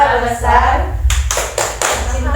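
A group claps hands in a quick rhythmic pattern during a school group counseling session, a few sharp bursts following a voice, close and fairly loud.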